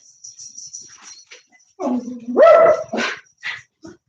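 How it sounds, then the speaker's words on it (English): A dog barks and growls up close, a few sharp barks leading into a drawn-out, howling bark, with a high electronic whine in the background. "I'm so happy to have a dog in the house that barks"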